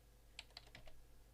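Typing on a computer keyboard: a handful of quiet, close key clicks in an irregular burst lasting about half a second, then faint background hum.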